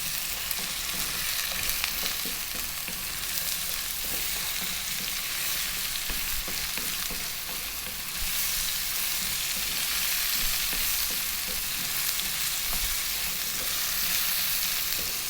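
Vegetables for a vegan lentil stew, seasoned with salt and black pepper, frying on lively heat: a constant dense sizzle with faint stirring scrapes, steady and close for the whole stretch.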